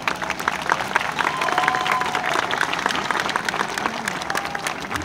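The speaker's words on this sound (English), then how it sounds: "Give them one more round of applause." Audience applause at an elementary school ceremony, a dense, sustained round of clapping from a crowd that stays steady and fairly loud for about five seconds.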